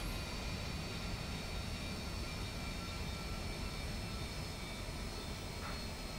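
A Harrier GR.7 jet in War Thunder flies back toward its airfield, a steady, dense engine roar that holds at constant loudness throughout, with no voices.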